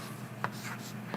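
Marker or pen scratches against a board as a point is plotted on a graph while solving an algebra problem, short soft strokes over quiet room noise.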